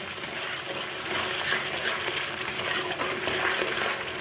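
Hilsa fish masala with sour yogurt stir-fried in a pan, giving a steady, close, continuous sizzle with faint stirring scrapes throughout, no voices.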